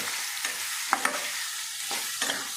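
Mango pieces are stirred in a hot pan, a spoon scraping and tossing them in a few soft bursts over a low, steady sizzle.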